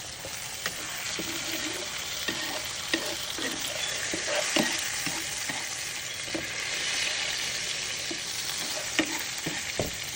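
A steak sizzles in a pan while being basted with melted butter, producing a constant frying hiss punctuated by repeated soft spoon taps and scrapes at an irregular rhythm, close and fairly loud.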